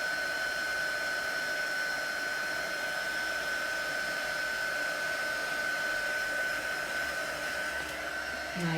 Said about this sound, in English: we're just going to hold the heat gun still